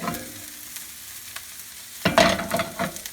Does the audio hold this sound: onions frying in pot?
yes